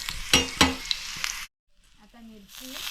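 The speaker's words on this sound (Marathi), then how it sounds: "हे बघा मस्त छान अशी तव्यावरती फोडणीला लसूण गेली आहे" Garlic hits hot oil on a griddle with a loud sizzle and clattering scrapes for over a second, then a sudden break, followed by quieter frying hiss and tonal voice-like sounds.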